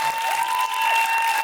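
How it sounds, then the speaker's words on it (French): Studio audience applause on a French television talk show, a brief dense wash of clapping at steady volume with no voices over it. "On applaudit les attardés maintenant."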